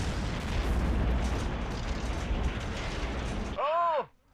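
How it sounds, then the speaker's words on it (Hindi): A fuel tanker exploding during a fire: a sustained loud, roaring blast of broadband rumble lasting several seconds, ending abruptly, followed briefly by a short whooping siren-like tone. "और तभी एक धमाका।"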